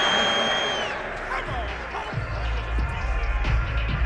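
A stadium crowd in Madden 22, Bengals vs Titans divisional round, reacts to a penalty flag: a brief electronic tone gives way to a sustained, rumbling crowd roar with scattered thumps.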